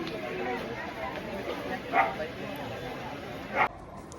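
A couple of short, sharp dog barks ring out at a distance, spaced a second or two apart, over a steady murmur of background noise, during a 6.9 magnitude earthquake aftershock in Davao.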